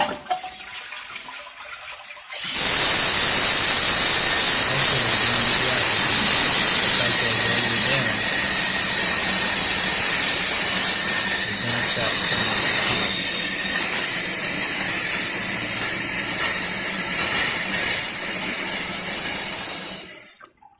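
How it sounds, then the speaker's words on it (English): A toilet flushes with a loud rushing swirl of water after a fill valve and flapper replacement, then the tank refills with a steady hissing trickle that runs on for several seconds before cutting off. "And I'm gonna flush it"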